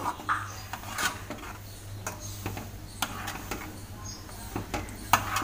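A spoon stirs crumbled sandesh (kalakand) into semolina kheer in a pot with the gas turned off, giving soft repeated clinks and scrapes against the metal at an irregular rhythm, close and fairly quiet, with no talking.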